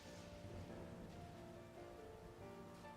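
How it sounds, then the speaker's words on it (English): Rain in a Pokémon video game plays as a faint, steady patter and hiss with a low rumble underneath, continuous and even throughout with no talking. "Oh, it's raining."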